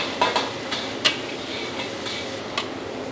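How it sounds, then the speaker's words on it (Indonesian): Spices and shallots sautéing in a pan, heard as a run of light clicking scrapes and taps from the utensil over a low, steady hiss, nearby and without speech. "kita tumis sampai matang."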